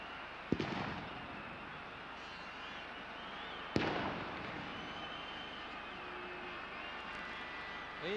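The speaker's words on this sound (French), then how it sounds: "il y a des pétards qui éclatent juste derrière les buts" Firecrackers go off behind the goal at a 1971 French Cup football match between Bastia and Marseille, two sharp distant bangs a few seconds apart over a steady crowd roar.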